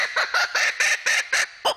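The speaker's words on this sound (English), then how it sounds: "What you're hearing right now is a territorial call" A laughing kookaburra gives its territorial call: a close, loud series of rapid, rhythmic cackling bursts repeating in quick succession with brief gaps between, heard alone.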